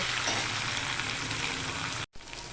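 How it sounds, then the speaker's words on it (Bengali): Fish roe mixture with ginger sautéing in a pan, a steady loud sizzle and frying crackle running throughout, briefly cut off near the end before resuming. "আদা দিয়ে আবার নেড়ে চেড়ে আমি কিছু একটু কষিয়ে নেব"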